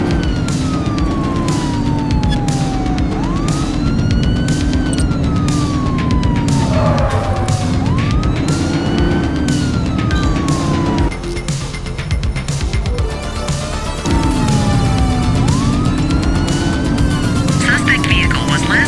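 A police car siren wails through a pursuit in the video game The Precinct, rising and falling sweeps repeating over a loud engine drone, with voices talking over it.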